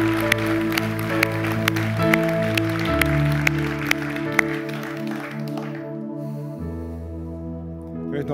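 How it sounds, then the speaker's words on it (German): A congregation applauds during a German church service, scattered claps ringing out over sustained keyboard or organ chords that continue playing underneath and then hold alone as the clapping thins. "Lass mal Applaus geben."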